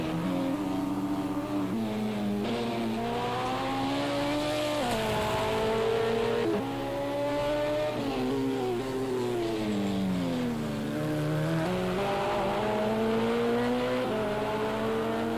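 LMP2 and GTE race cars in Project CARS 2 race down the Le Mans straights, engines droning loudly as their pitch climbs and drops through repeated gear shifts, with overlapping cars and no talk.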